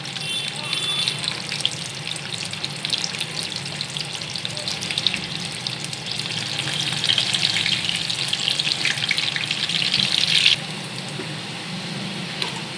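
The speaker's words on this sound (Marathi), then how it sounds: "हे बघा मी फ्राय करते, असं लाल कलर यायला पाहिजे ना बटाट्याला।" Boiled potatoes fry in a pan for potato chaat, giving a steady, fairly loud broadband hiss of sizzling oil that swells a little in the middle before easing back, with no voices.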